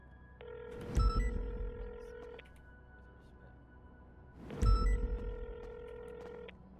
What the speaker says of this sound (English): Let me call Cletus